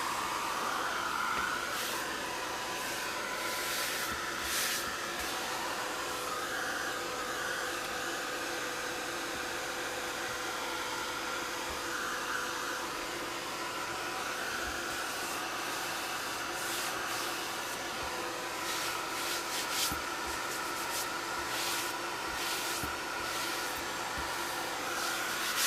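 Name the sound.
heat tool drying muslin art journal page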